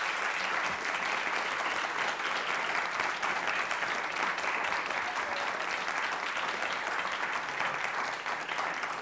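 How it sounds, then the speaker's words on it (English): An audience applauds a panel at an orchestra event, giving sustained, even clapping that fills the room without pause for about nine seconds, with no voices standing out above it. "join me in a round of applause for each member of our panel, David Cizak, Duluth, Edward, Janet, Henry."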